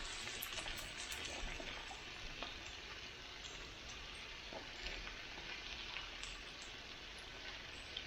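Fresh mushrooms sauteing on a Blackstone griddle give a steady, close sizzle with light crackles and occasional scraping, continuous and even with no talking.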